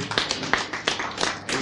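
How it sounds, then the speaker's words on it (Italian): A small audience claps for Alessio Brozzi during a live show in Panicale, a short burst of loud, uneven, fairly close hand claps with distinct individual slaps. "Possiamo fare un applauso a Alessio Brozzi"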